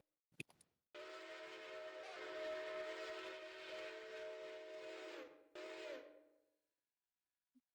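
A steam train whistle in the Railroader game blows one long, loud, steady blast after a brief click, cuts off, then gives a shorter final toot that fades away; no voices are heard.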